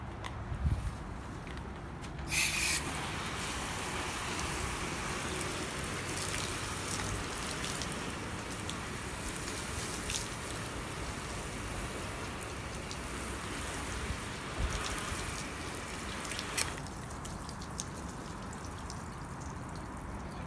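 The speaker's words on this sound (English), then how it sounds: "I'm just going to go ahead and rinse it off and see what we find out." Water from a hose rinsing car wash soap off car paint, a steady broadband spray and patter running nearly throughout, starting and stopping sharply near the beginning and toward the end.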